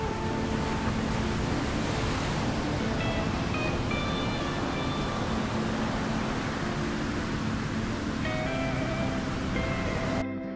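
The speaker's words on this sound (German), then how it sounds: "Hier zu stehen, dem Sound der Brandung zu lauschen, den pfeifenden Wind um die Ohren zu spüren" Surf breaking along the Icelandic coast in winter, with a steady, loud, unbroken roar of waves and wind that fills the whole stretch and runs without pause or any voices.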